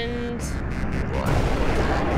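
A rumbling explosion bursts out partway through, following a brief electronic tone in the PS2 rhythm shooter Rez, and lingers as a loud, dense roar to the end.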